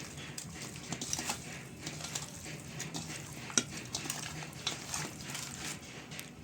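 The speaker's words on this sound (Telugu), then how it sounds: "ఇది సాల్ట్, అల్లం పేస్టు, అలాగే కారం వేసి బాగా కలుపుకోండి ముక్కలు పట్టేటట్టు" Mutton pieces are mixed by hand with salt, ginger paste and chili powder, giving a soft, continuous squelching and rubbing close by, with occasional light clinks of a utensil.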